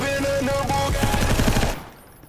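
Rapid automatic gunfire rattles loudly in the Roblox game AniPhobia, a dense burst of shots that cuts off and fades into quiet near the end.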